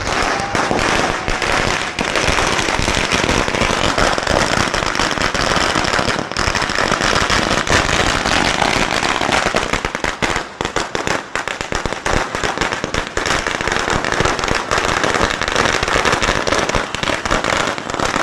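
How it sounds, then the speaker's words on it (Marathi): Long, dense string of firecrackers bursting in rapid continuous crackling in Daryapur town, India, at an election victory celebration, loud and sustained with only brief dips in intensity. "अकोट मतदारसंघातील विजयाचे फटाके फुटले दर्यापूर शहरात"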